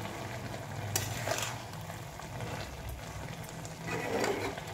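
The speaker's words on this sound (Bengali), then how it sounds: "চিনি দিয়ে এবার ভালো করে এটাকে নেড়ে দেব।" Food in a pan is stirred after sugar is added: a low sizzle under soft scraping and occasional clinks of a utensil, fairly quiet and close, with no voices.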